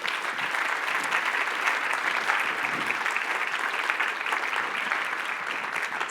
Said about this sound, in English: let's give a round of applause to Jeff Olson, please.